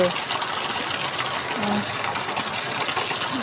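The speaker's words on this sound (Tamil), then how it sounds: "பைப்பு போட்டுட்ருக்கோம். இதில் பாருங்கள், தண்ணி எப்படி கொடன்னு வருது." Water gushes steadily and loudly from a pipe during heavy rain, a dense rushing wash with a faint tonal hum beneath it.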